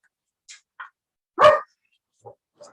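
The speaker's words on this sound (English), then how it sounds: "There's my dog." A big black dog gives one loud, close bark, surrounded by a few faint, brief yips and sniffs spaced out across a quiet room.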